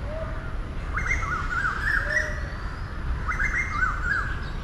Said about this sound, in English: Suddenly the cuckoos.